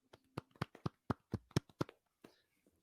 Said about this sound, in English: In honor of the Masters golf clap.